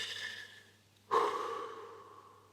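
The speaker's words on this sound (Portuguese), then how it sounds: "uma respiração profunda" A single slow, deep breath taken as a demonstration: a soft, drawn-out exhale, a brief pause, then a sudden sharp inhale that tapers off gradually, close and quiet.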